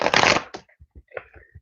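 A quick riffle of playing cards, a dense papery burst, followed by several soft taps and light card shuffles, close and fairly loud.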